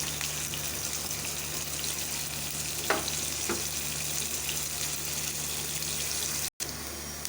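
Chopped onions fry in a pan over medium heat with a steady, moderate sizzle. A couple of faint stirring clicks break the hiss, and there is no talking.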